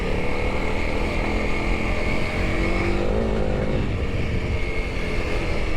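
A Honda CRF 300L motorcycle ridden steadily, its engine holding a loud, even drone throughout with a slight pitch shift partway through and no pauses.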